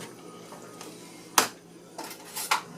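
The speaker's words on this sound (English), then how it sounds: "Stir it all about, like I said." A spoon stirring barbecue sauce seasoned with onion powder in a pot, a few sharp metallic clinks and scrapes against the pot, irregular and close, over quiet background.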